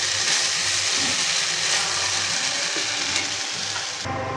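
Potatoes fry in hot oil with a dense, continuous crackling sizzle, close and fairly loud, shifting slightly at the end as if the pan were disturbed.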